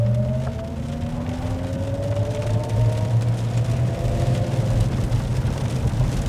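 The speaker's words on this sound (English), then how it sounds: "That was just an amazing amount of acceleration instantaneously, which is what electric vehicles are known for" A 2024 Cadillac Lyriq Sport 3 electric car accelerates hard onto a highway, its steady rising electric motor whine and tonal hum carrying loud and continuous over road noise from inside the cabin.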